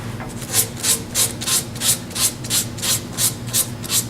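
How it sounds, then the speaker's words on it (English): Sandpaper of 180 grit rubs soft wood on a turned Christmas ornament in rhythmic back-and-forth strokes, about ten even rasps, close and clear with no talking. "come in here with just with my 180 sandpaper and sand this off"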